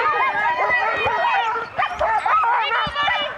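Sled dogs at a race bark, yip and whimper excitedly together, a dense, continuous chorus of close, loud canine voices with people speaking faintly underneath.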